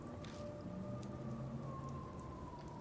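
Light rain falls steadily in a Death Mark game scene, a soft continuous patter with a faint siren-like tone drifting underneath, no voices.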